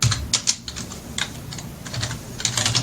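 Rapid keystrokes on a computer keyboard while Java code is entered, with irregular bursts of clicks and short pauses, close and fairly clear over a low background hum.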